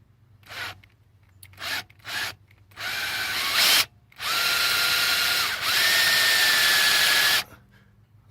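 A power drill bores a small hole into a brake caliper cover: a few short trigger bursts, then longer sustained whirring runs with a brief pause between them, close and fairly loud, with no talking.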